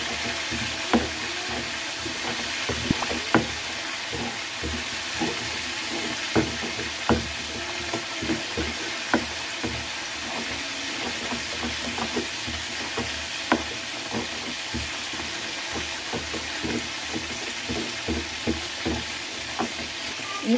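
Sambal cooks in a frying pan for nasi uduk, giving a steady close sizzle and crackle with frequent sharp ticks and knocks of stirring against the pan throughout, no talk.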